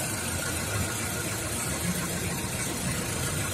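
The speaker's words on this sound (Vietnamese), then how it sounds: "Đấy, máy nổ rất êm, hoạt động trơn tru" A 2017 Suzuki Super Carry small truck engine idling, a steady, smooth, even rumble with a constant mechanical hum, close and continuous with no voices.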